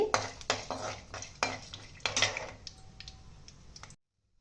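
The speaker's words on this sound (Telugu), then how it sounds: "ఇప్పుడు దీంట్లోన పచ్చిశనగపప్పు, మినపప్పు ఇవి బాగా వేగాలండి." Chana dal and urad dal tossed in hot oil in a pan, with scraping stirs and metal utensil clinks over a soft frying hiss, close and moderately loud, ending abruptly.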